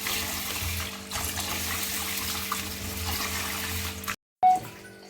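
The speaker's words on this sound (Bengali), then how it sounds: "চালটা ধুয়ে নেব" Rice being rinsed under running tap water in a kitchen sink, a steady close splashing flow for about four seconds, then a brief silence before a louder burst of water.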